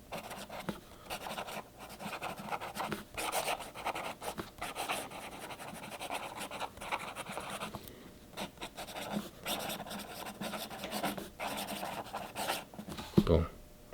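A Wyvern 404 fountain pen with a vintage hooded nib writes on paper, making close, scratchy strokes in quick irregular bursts, with a sharper knock near the end.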